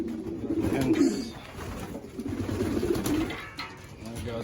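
Stock pigeons in a loft coo repeatedly in low, rolling calls, fairly close and moderately quiet, with faint background rustling.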